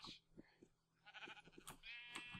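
Sheep in the modded Minecraft video game bleat several times in a low, quiet, rhythmic pattern, with higher wavering calls toward the end.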